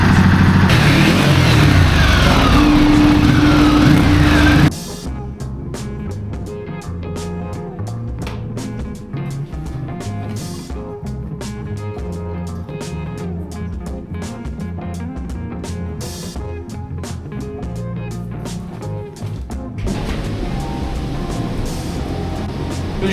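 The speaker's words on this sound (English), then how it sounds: "We're just going to do a quick base power run just to get a baseline figure for how the bike's performing." A Ducati 1260 Multistrada motorcycle engine runs on a dyno for a baseline power pull, beginning with a loud rev, then settling into a steady, sustained drone that swells again near the end.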